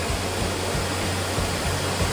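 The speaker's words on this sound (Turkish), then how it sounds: "Su sesi çok fazla var burada." Rushing stream water fills Körkün Canyon near Adana, a loud, steady broadband roar of fast current running without a break, close and dense, with no voices.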